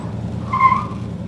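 Brakes clamp hard on a 1969 Chevelle 300 Deluxe SS396 and a tire locks up, giving a short, sharp squeal over the steady rumble of the engine.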